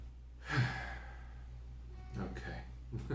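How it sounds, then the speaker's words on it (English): A single deep breath taken at the start of a gathering, an audible sighing exhale up close followed by softer breathing sounds. "I'll take a deep breath and invite you to do the same thing"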